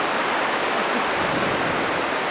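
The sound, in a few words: river flowing in Merano, Italy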